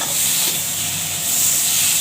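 Spices such as cumin, coriander, chilli and bay leaves crackle and sizzle in hot oil, a steady close frying hiss with no talking.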